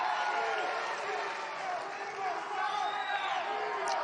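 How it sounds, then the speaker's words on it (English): Large crowd at a campaign rally in North Carolina, a steady wash of cheering, whoops and scattered clapping that holds for several seconds, with voices mixed in. "What a nice crowd this is."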